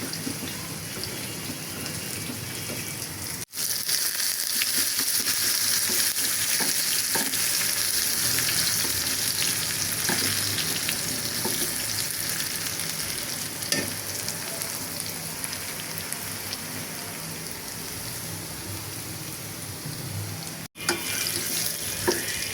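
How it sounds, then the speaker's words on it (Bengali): Onion and garlic frying in hot oil for a lentil tempering give a loud, steady sizzling hiss throughout, broken by two brief dips near the start and end, with no talking. "ডালে বাগার দিব, এর জন্য পেঁয়াজ আর রসুন দিয়ে দিলাম।"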